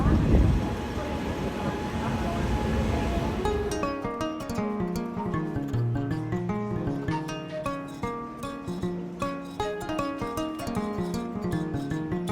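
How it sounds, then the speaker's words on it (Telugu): An Indian Railways engine rumbles along at first, then melodic music and chatter take over, leaving the train faint underneath. "ట్రైన్ మళ్ళీ మూవ్ అవుతుంది"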